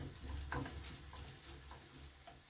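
Saffron or turmeric, cinnamon and salt being stirred into a frying pan for sweet-savoury Tlemcen couscous, with a faint steady sizzle and soft scraping strokes, no talk.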